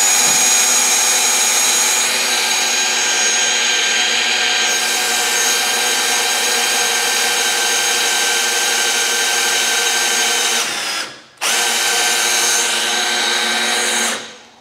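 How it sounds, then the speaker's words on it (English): A power drill set on low speed winds the carriage of an automated sawmill, giving a steady loud whirring hum that runs continuously, cuts out briefly near the end, then resumes before fading. "Put the drill onto low, one, and wind her up."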